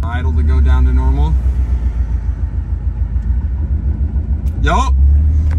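A modified car engine idles with a steady low rumble throughout, settling toward a normal idle, while a person speaks briefly at the start and again near the end.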